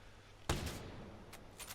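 A single sniper rifle shot in the video game Ghost Recon Breakpoint cracks out sharply and fades into a short tail, followed by a couple of faint softer clicks, all quiet overall.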